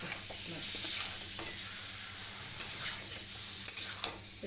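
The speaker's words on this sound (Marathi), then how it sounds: "पॅनमध्ये मला फ्राय करायची मच्छी बघा" Fish sizzling and frying in a pan, a steady close hiss with occasional stirring clatter and a few sharp pops near the end, no voices.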